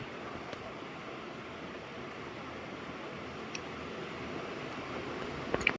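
Rain falls steadily on soybean fields as a soft, even outdoor hiss. It is fairly faint and constant, with a few small pattering spikes near the end.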